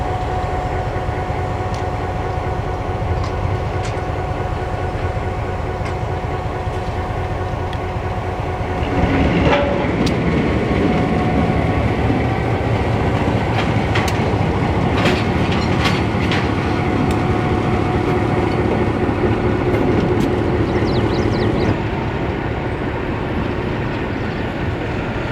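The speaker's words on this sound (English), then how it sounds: "Pulling the 5 loads out, they will be coupled up to the caboose for the return journey" A freight train on the Mount Hood Railroad, pulling five loads to couple with a caboose, rumbles steadily with loud rolling clatter and wheel clicks, growing heavier partway through and continuing alone without voices.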